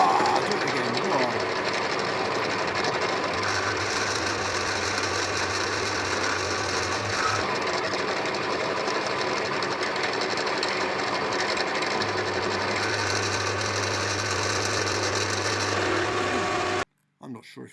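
A lathe with worn headstock bearings runs under pressure from a drill and centre, giving a loud, steady mechanical whirring and rumbling drone that holds for most of the stretch, then stops abruptly near the end.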